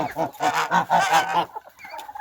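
Geese honking in a farmyard barn in deep frost, a rapid series of loud nasal honks close by, then quieter calls trailing off.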